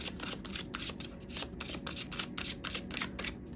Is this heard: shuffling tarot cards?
yes